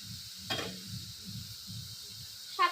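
Katla fish curry simmering over a village cooking fire, giving a low steady bubbling sizzle with a couple of sharper scraping stirs near the start and end.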